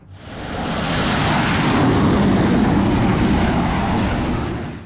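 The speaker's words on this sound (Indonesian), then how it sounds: "Inilah Dassault Rafale, jet tempur andalan Prancis yang kini juga akan memperkuat langit Indonesia." Dassault Rafale, a French fourth-and-a-half-generation multirole fighter jet, roars past in a loud, steady broadband rush that swells and holds for several seconds without any talk.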